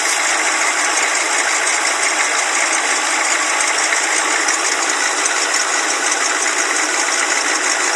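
A 1986 Chevrolet M1008 military truck's diesel engine idles close up with a steady, rough, rattling drone that holds an even loudness throughout, with no talking.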